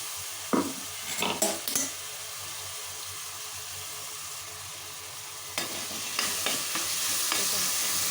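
Coarse onion paste frying in a pan for street-style peas chaat, a low steady sizzle broken by a few sharp scraping stirs early and again near the end.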